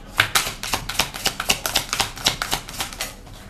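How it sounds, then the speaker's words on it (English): Tarot cards being pulled and flicked from a deck, a quick irregular run of crisp papery snaps and taps, close and dry, with no talking. "I'm gonna pull some more cards."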